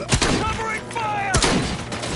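Gunfire in the RoboCop video game on PS5, with sharp shots cracking out in quick succession amid a busy combat scene while game characters shout.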